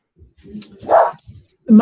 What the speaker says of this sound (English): And now my dog started barking.